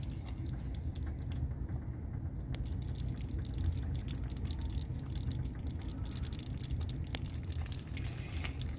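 A sugary cracker topping mixture simmers in a pan for Christmas crack, a soft steady bubbling and fizzing with scattered tiny pops and ticks, close and quiet, with no talk over it.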